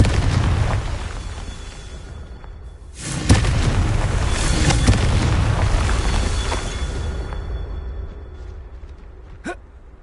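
A Confringo spell blast in the game Hogwarts Legacy: a sudden loud booming explosion bursts in and its rumbling crackle trails off over several seconds, followed by a short sharp pop.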